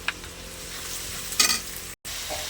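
Garlic paste and chilli powder frying with onions in a pan: a steady close sizzle throughout, rising into a louder spitting burst midway, then dropping out briefly before resuming.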